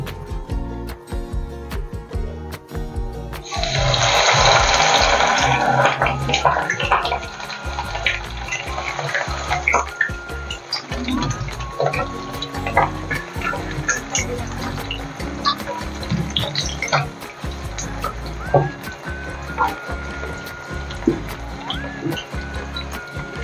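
Chicken kebabs dropped into hot oil in a kadai, a sudden loud bubbling sizzle that settles into a continuous crackling fry with scattered pops, close by.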